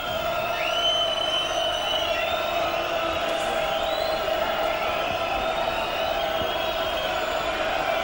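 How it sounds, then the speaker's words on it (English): South Stand crowd at a 1992-93 Leeds versus Castleford rugby league match jeering as a player lines up a kick, a continuous loud roar of whistles and shouts from a big stadium crowd, steady throughout. "The South Stand crowd attempting to unsettle Lee Crooks."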